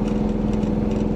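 A bus engine idles with a steady low hum and throbbing vibration that rattles through its frame, loud and close, with no talk over it.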